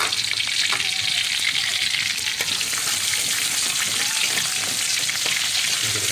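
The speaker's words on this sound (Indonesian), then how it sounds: "Setelah kuali panas, kita masukkan bawang putih dan juga halia." Chopped garlic and ginger frying in a hot wok give off a loud, continuous, dense sizzle with crackling oil and occasional stirring taps throughout.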